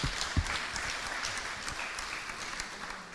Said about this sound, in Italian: Un applauso a Luca che se lo merita tutto